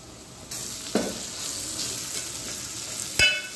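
Jaggery, coriander and chillies fry in a pan, a steady bright sizzle with a couple of brief stirring clacks, close and moderately quiet.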